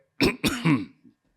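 A single throaty cough or throat clear in two or three rough bursts, close and fairly loud, ending in a faint trailing grunt.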